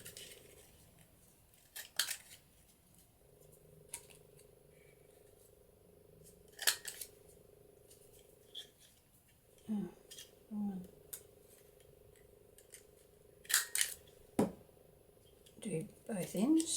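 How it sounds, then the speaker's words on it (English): Scissors snip the corners of a paper journal page round: a few sharp, brief cutting clicks scattered across the clip, close up, between quiet stretches with a faint steady hum behind and some short sounds of handling. "I'm going to round the corners on this"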